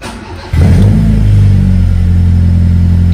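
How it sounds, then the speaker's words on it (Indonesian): A 1996 Honda Civic Ferio engine with a Spoon aftermarket exhaust fires up after a brief quiet moment and settles into a loud, steady, throaty idle with a deep rumbling exhaust note. "kita coba hidupin, sekalian kita dengerin suara dari knalpot Spoon yang katanya dari Malaysia cuy"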